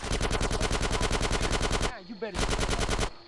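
Rapid automatic gunfire in GTA San Andreas Mobile during a casino heist shootout, a loud, steady machine-gun stream of evenly spaced shots with a brief pause before a second burst.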